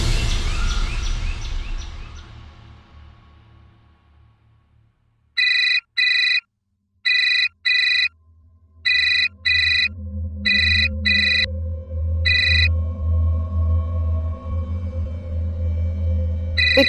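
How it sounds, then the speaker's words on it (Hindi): A phone rings with an incoming call, sounding a repeated electronic double-burst ringtone in steady regular pulses, clear and close, after a fading music sting and over a low background hum. "तुम्हें फोन कर रहा है, तुम बात कर लो।"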